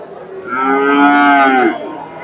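A Friesian heifer gives one long, loud, close moo lasting over a second at a cattle market, rising and falling in pitch, with quiet background noise around it.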